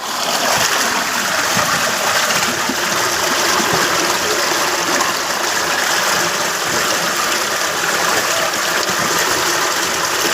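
Water rushes out of a breach in a newly built canal minor near a Punjab village, a loud, constant roaring gush close by with no pauses.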